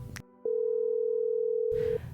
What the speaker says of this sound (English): Picking up my phone and letting out a deep sigh, I called her number, ringing.